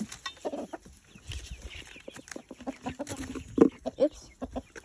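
Roosters and chickens cluck and murmur on a farm, giving a busy run of bird calls at moderate distance. Soft rustling and activity sit beneath the calls.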